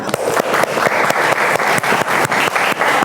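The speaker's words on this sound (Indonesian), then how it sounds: "Tepuk tangan buat kelompok 2." A classroom audience applauds a student group after their presentation, a steady wash of many hands clapping at close range with no talking over it.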